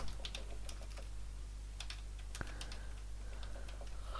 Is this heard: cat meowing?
no